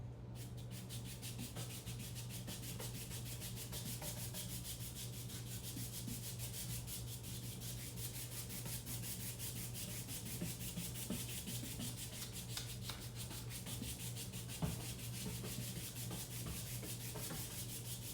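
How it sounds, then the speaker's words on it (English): Spatula dragged through wet paint on a canvas to add texture, a quiet steady scraping and rubbing with a low constant hum underneath and no talk. "I'm going to grab this spatula and drag it just to get some different textures"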